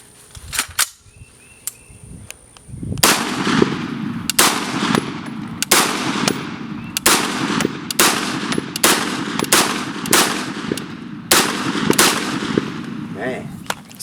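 A Bentwood Arms OIP rifle fed from a PMag fires 5.56 rounds at an outdoor range: roughly a dozen sharp, evenly spaced shots after a short quiet start, each ringing briefly before the next.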